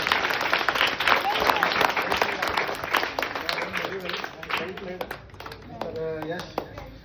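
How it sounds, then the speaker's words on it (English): An audience applauding two equal winners at an event, a dense burst of clapping that gradually thins and fades, with some talk and tapping mixed in toward the end. "first of all, clap for both of them"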